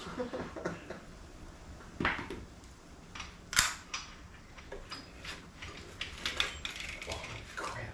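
A mechanism tightening with pistons, giving a series of sharp irregular clicks and ratcheting ticks at close range, with quieter handling noise between them.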